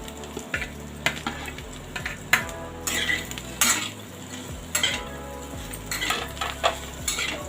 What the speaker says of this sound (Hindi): सबको मिक्स कर लीजिए।